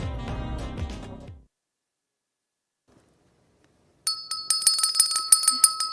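A bright bell rings out in a series of clear, repeated strikes after a stretch of silence, with music fading out at the start.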